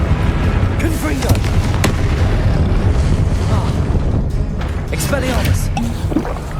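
Confringo blasting-spell explosions in the Hogwarts Legacy video game: loud, continuous booming blasts with rumbling bursts, under a voice shouting spell names.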